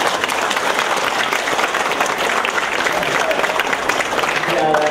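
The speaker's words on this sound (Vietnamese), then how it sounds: "Vỗ tay đi." An audience at a Buddhist dharma talk applauds, a dense, steady wash of clapping from many hands that holds loud and even throughout.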